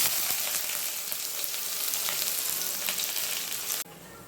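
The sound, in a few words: onions sautéing in a pan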